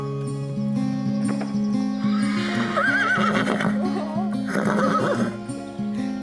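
Horse on a family ranch gives a long, loud, wavering whinny in two rising bursts, with a low rumbling snort underneath and steady nearby background noise.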